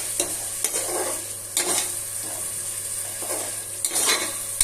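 Tomato paste sautéing in a pan for mushroom biryani, a close, continuous sizzle broken by several sharp scrapes and clinks of a spoon stirring against the metal pan at irregular intervals.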